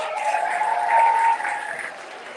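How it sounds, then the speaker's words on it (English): Audience applause at a poetry reading, a steady patter of clapping from a modest crowd that swells briefly and then tapers off. "Let's clap up for Nikki Giovanni, y'all."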